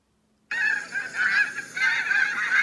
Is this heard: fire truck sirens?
no